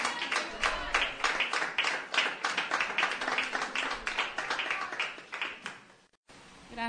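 A church congregation applauds in rhythmic, rapid clapping that swells and fades over several seconds, then stops abruptly before a brief quiet tail.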